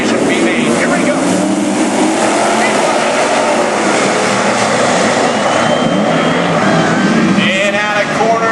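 A field of eight race cars roaring off together at the start of a ten-lap dirt-track heat, a dense, continuous engine drone filling the air while an announcer talks over it.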